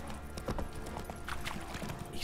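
Horse hooves galloping in The Witcher 3 video game: a rapid, steady clip-clop of hoofbeats running through the whole short stretch amid game ambience.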